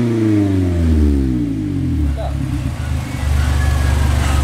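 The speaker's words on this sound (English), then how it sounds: "what you just heard, guys, was the sound of Scarlet Miata without a muffler" A Mazda MX-5 Miata running with no muffler revs up hard and falls back, a loud, raw, rasping exhaust note with a lumpy idle after the rev, over which someone talks.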